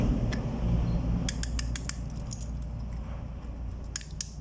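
A refrigerator defrost timer is turned by hand, giving a series of small sharp clicks and ticks in irregular clusters over a low background hum; no talking.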